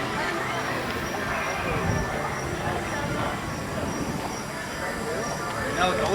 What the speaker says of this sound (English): Heimlich Choo Choo Train, aka the saddest ride ever built.